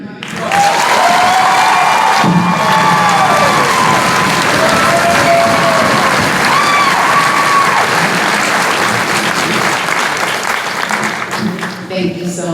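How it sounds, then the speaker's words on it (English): A crowd at a community rally in Front Royal applauds and cheers loudly after a speech, dense clapping with whoops and whistles carrying steadily for about twelve seconds. "Let's give Gene another round of applause."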